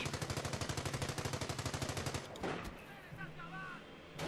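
Rapid machine-gun fire from the World War II strategy game Company of Heroes, a fast even burst of shots lasting about two seconds, then quieter battle noise with faint distant sounds.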